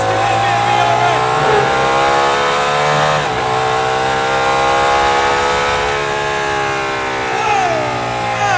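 Aston Martin Valkyrie hypercar accelerating hard out of a hairpin onto a straight with ERS electric boost engaged, a loud, sustained engine note climbing steadily through the gears alongside a faint hybrid whine.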